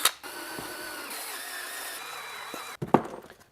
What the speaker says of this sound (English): Man, do I love drilling in plastic.